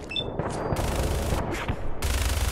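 Gunfire in Fallout 4 at the Corvega Assembly Plant: several loud bursts of shots with sharp, repeated cracks, separated by brief gaps, then a heavier boom near the end; no talking.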